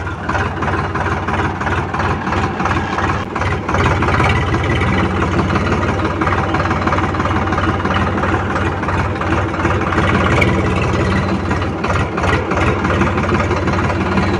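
A new 2024 Eicher 551 tractor's engine runs, a loud, close, continuous low diesel rumble with a steady pulse and faint clatter, heard alone for the whole stretch.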